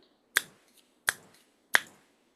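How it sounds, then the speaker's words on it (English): Three crisp finger snaps, sharp and close, evenly spaced about two-thirds of a second apart in otherwise quiet surroundings. "when I snap my fingers"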